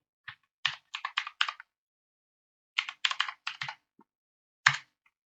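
A computer keyboard is typed on in short bursts of crisp, close key clicks, a quick run of strokes, a pause, then another flurry and a final single keystroke, with no voice.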